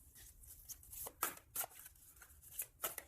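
Tarot cards shuffled and drawn, a run of soft, quick papery riffles and flicks coming in uneven bursts, close and faint, with no talk.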